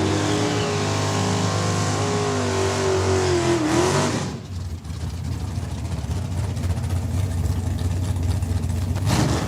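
Drag race cars launch hard down the strip at Saskatchewan International Raceway, a loud sustained engine roar with a rising rev that drops and then continues as a steady, powerful drone.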